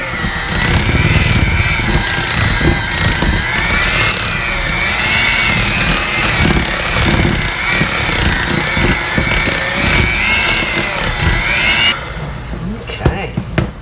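A Black & Decker electric hand mixer whirs loudly and continuously while beating a chocolate cheesecake peanut butter mixture, its motor pitch wavering slightly before cutting off near the end.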